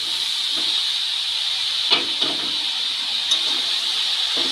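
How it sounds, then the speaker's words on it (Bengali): Chopped mixed greens fry in a pan with green chilli and onion, giving a steady, even sizzling hiss broken by a few faint clicks, with no talking. "এবারে এই কেটে রাখা শাকগুলো আমি এই কাঁচা লঙ্কা পেঁয়াজের সাথে মিশিয়ে দিলাম।"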